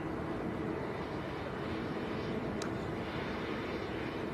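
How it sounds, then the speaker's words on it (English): A TUI airliner rolls for takeoff at Manchester Airport, a steady distant jet roar blending into broad outdoor noise, with no talk. "TUI on the roll on the other side."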